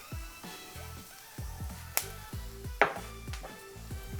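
Onions sautéing in a frying pan for a healthier Turkish pizza, a steady soft sizzle under repeated low rhythmic thumps, with a couple of sharp clicks or clinks cutting through.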